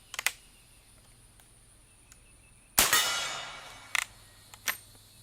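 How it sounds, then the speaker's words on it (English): Springfield Trapdoor breech-loading rifle handled at a range: light metallic clicks and clacks from the breech block and cocking, followed by one sharp loud shot with a short decaying tail, then a few more clicks. "load a cartridge, swing the breech block down, take it to full cock, and fire."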